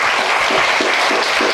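An audience claps through the whole of a brief stretch at a Korean history symposium held for a memorial hall's first anniversary. The applause is dense and steady, with no voices over it.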